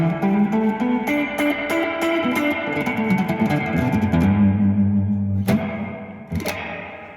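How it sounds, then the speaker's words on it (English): Electric guitar notes are played through a splashy, echoing spring reverb pedal, with chords ringing out and trailing off into a wash, then sharp plucks at the end. "So this is kind of emulating your old spring reverb tape."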